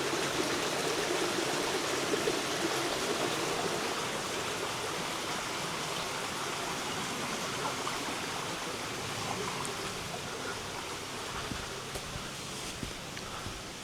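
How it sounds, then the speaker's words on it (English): Small river stream rushing steadily over a little waterfall, a continuous broadband wash heard at moderate distance with no talk, by a campsite with static caravans on a road trip to Germany. "Oh, a bit of a waterfall in a bit there."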